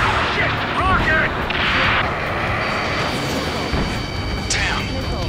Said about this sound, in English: Shit! Rocket!